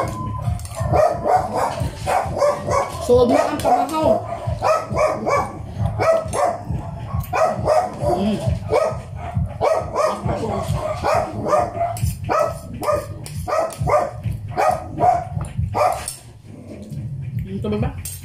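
A dog barks repeatedly in a home kitchen setting while people talk continuously over the noise, with dishes and cutlery clinking in the background.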